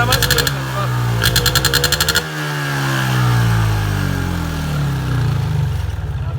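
A motorcycle engine at a post-race celebration revs hard in short repeated bursts, then settles into a loud, drawn-out roar that rises and falls close by.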